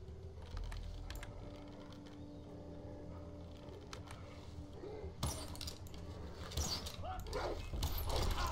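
A dog barking in the Far Cry 3 jungle, a few moderately loud barks over steady outdoor game ambience with birdsong and someone talking.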